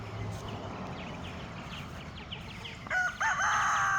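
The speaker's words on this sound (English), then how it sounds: "we had to bring our rooster Floyd down here." A rooster crowing at a farm and garden supply store, one loud, close call rising near the end over steady background noise, with fainter clucking and bird sounds before it.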